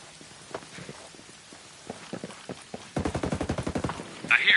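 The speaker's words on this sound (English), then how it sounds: "I hear enemy fire in the area. A surveillance system has just been located. I'm taking incoming rounds." Gunfire in a military shooter video game: scattered single shots and short bursts at first, then a loud, rapid machine-gun burst of closely spaced reports near the end.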